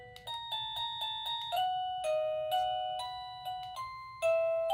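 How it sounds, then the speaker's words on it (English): A series of bright electronic chimes from a Bitnovol wireless doorbell, several short melodic tunes played one after another, clear and close with no talking. "There's a lot of different chimes here, and you can adjust the volume here as well"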